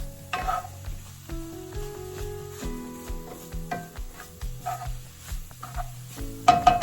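Organic beef enchilada filling is stirred and toasting in a pan: a steady close sizzle with scraping stirs and clinks of a utensil against the pan, no talk.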